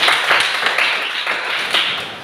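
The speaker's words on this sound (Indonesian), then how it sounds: "tepuk tangan buat temannya Nike." Schoolchildren in a classroom clap for a classmate who answered a question, a steady wash of many small hands at moderate volume with a few sharper accents and no talk.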